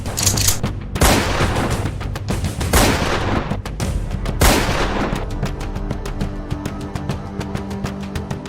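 Loud gunshots ring out close by, several booming blasts spaced a couple of seconds apart, followed by a rapid crackle of smaller pops.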